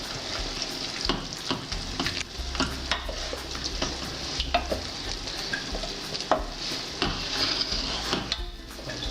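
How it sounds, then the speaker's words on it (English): A wooden spoon stirs tomatoes and tomato paste in a sizzling pan, with steady frying hiss beneath repeated close scraping and knocking strokes and no voices. "you give it a good stir with a wooden spoon"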